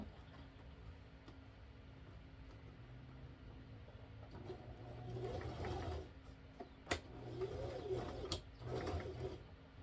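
A sewing machine back stitching a bag runs in short mechanical whirring bursts with rhythmic needle clatter, quiet and close, separated by brief pauses.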